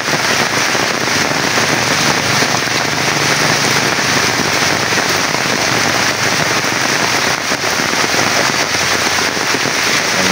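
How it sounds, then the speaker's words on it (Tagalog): Heavy rain pours down in a dense, unbroken roar that stays loud and even throughout, with no pauses or other sounds standing out. "Napakalakas na ulan."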